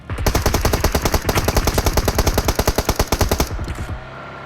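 Rapid sustained automatic gunfire in PUBG Mobile, a loud continuous burst of evenly spaced shots lasting several seconds before cutting off, with no talk over it.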